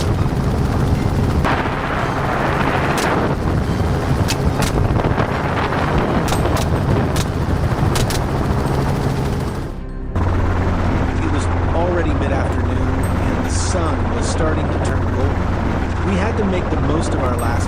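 Gunfire from a helicopter during a wild hog hunt in Florida at dusk, with sharp shots standing out over the loud, steady rotor and engine drone and wind buffeting the microphone.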